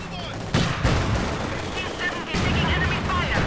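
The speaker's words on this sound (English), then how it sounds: "Mortar rounds falling in." Mortar rounds landing in Company of Heroes 2, a run of loud, sharp explosive impacts and crackling blasts layered over continuous battle noise, with a commentator's voice in the background.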